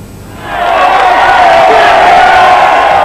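A large crowd cheers loudly and continuously for the Port Vale team on a 15-mile Potteries tour during the 1993 Autoglass celebrations. The roar swells in after a quieter first half-second and holds steady.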